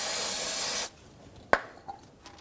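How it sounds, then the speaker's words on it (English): Brake parts cleaner sprayed onto the brake caliper of a 2011-2014 Hyundai Sonata in one loud, steady hiss that cuts off abruptly, followed by a sharp knock and a few faint clicks. "Clean the area with our parts cleaner."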